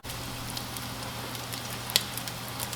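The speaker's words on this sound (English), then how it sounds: "in a frying pan, we're going to go ahead and render down a little excess bacon that we had" Excess bacon renders in a frying pan, giving a quiet, steady sizzle with a few soft pops and crackles and no talking.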